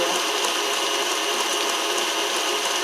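A steady, loud mechanical whir of an electric mixer running at high speed mixing hot fudge lava cake batter, constant and unbroken throughout with no talking.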